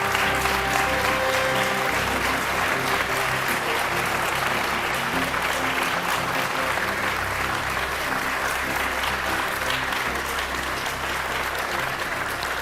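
Long, dense applause from a large audience at a live budget statement event, a continuous even roar of clapping that stays loud and unbroken for over twelve seconds, with faint murmuring beneath.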